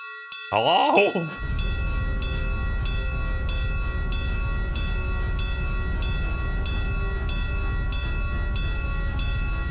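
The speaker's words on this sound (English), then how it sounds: "Why are we ringing a bell?" Alarm bell clanging in the Tales of Vesperia video game, struck in a steady repeating rhythm of sharp, ringing metallic hits that continue throughout, loud and close, with a brief burst of other game sound near the start and a single spoken word.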